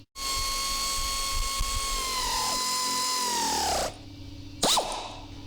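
A power tool whirs steadily for several seconds while tightening seat bracket bolts on a golf cart, its pitch sagging as each bolt seats, then stopping with a brief spin-down and a short final burst.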